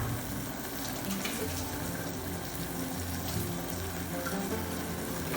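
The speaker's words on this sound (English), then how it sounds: "literally I'm just going to run the tap" Water runs steadily from a kitchen tap for several seconds, a continuous close rushing hiss at an even level, with no talking over it.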